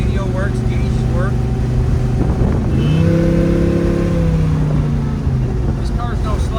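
A restored 1967 Chevrolet Chevelle with a 427 big block V8, its loud, close engine rumbling and rising in pitch as it accelerates, then easing off, with no talk.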